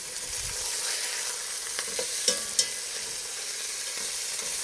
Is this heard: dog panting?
no